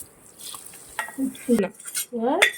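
Hot fried tempering is poured into a homemade chutney and stirred with a spoon, giving a few quiet clinks, scrapes and a faint sizzle, with soft voice sounds in between.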